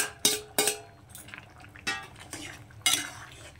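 Fried bitter gourd pieces go into a pan and get stirred, a series of sharp scraping and clattering strokes of a utensil against the pan, about six distinct hits with quiet gaps between.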